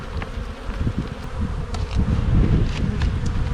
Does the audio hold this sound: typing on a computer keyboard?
no